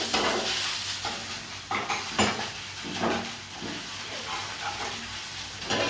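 Kochu bata, a creamy taro paste with prawns, being stirred in a pan, giving soft scraping and clinking of a utensil against metal over a steady faint sizzle, in irregular strokes close by.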